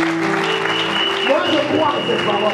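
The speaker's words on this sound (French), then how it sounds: "Applaudissez votre Dieu." Congregation applauding in a church service, a steady dense wash of clapping with voices and music tones running underneath.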